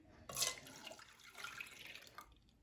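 Two cups of milk pour into a container for hot chocolate, a soft liquid splashing and trickling stream lasting about two seconds, fairly quiet and close, with no talking.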